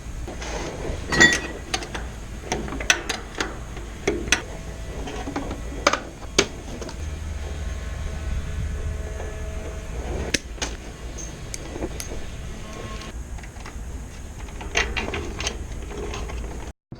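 A hand tool turns and tightens a plumbing fitting, giving sparse mechanical ratcheting clicks and metallic ticks at irregular intervals over a quiet background hum, close and fairly faint, with no talking.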